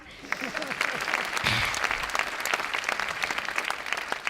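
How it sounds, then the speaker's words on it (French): During an awards ceremony, an audience claps for Jean-Pierre, a dense, sustained round of applause with sharp individual claps and brief voices mixed in. "on peut l'applaudir, hein?"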